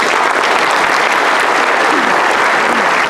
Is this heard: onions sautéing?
no